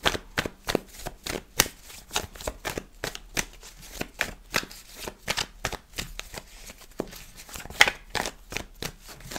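Tarot cards being shuffled for a reading make a brisk series of sharp riffling snaps, close and crisp, repeating in a fast, slightly uneven rhythm with no talking.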